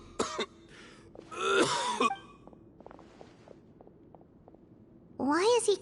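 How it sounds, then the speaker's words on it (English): A character in Genshin Impact coughs and clears his throat in a few rough bursts, with gaps of quiet game ambience and faint ticking between, and no speech over them. "Why is he coughing so much?"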